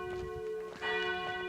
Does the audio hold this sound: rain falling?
no